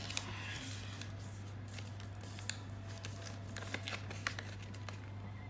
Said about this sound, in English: Rotate and fold this corner